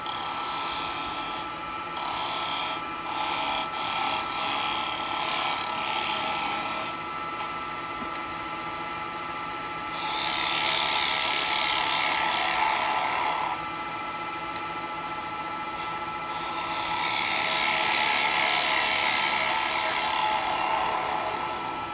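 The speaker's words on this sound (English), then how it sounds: "I'm going to use the carbide just to take it down" A carbide tool cuts a wet eucalyptus bowl spinning on a lathe. It makes a steady, close, rough scraping rasp that swells louder and softer in long passes, with brief breaks, and no one talks.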